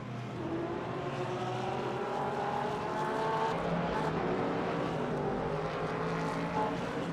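A race car's engine drones and rises as it approaches a track in Barcelona, a sustained mechanical whine building in loudness, heard from a distance without any voices.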